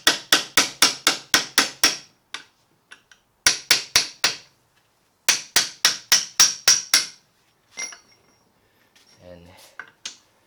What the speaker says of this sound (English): Get your hammer and your chisel, and you can start going at this.